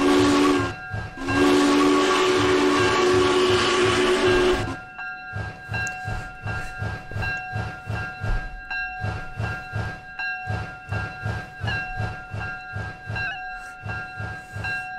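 A Minecraft train with a loud steam whistle blasting for several seconds, then a steady rhythmic chugging and clacking of the running train, close and even.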